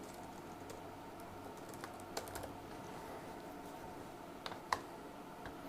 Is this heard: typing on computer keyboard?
yes